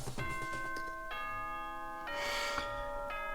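A school announcement chime from Danganronpa rings out as a short sequence of four bright, bell-like tones, each sustaining and overlapping the last, at a moderate, fairly soft level.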